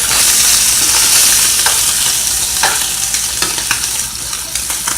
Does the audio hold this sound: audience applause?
no